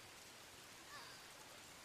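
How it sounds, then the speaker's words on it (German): Steady rain falls in the video game Dawn of Man, a faint, even hiss with no distinct drops and no voices. "Und wieder einmal regnet's."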